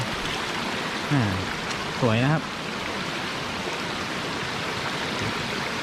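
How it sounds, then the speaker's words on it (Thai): Clear water rushing steadily at a forest waterfall in a Thai arboretum park, a continuous broadband wash filling the scene, with a voice speaking briefly over it twice. "นี่ครับ น้ำตกน้ำใสมากเลยครับผม"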